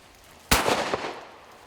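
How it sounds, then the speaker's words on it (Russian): A single sharp shotgun report at a clay-target shooting range, loud and close, with a quick echo tail fading over the next second. "Затем дождаться момента и произвести выстрел по летящей цели."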